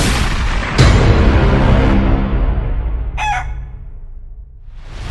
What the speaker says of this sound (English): Guys, look, there's a chicken!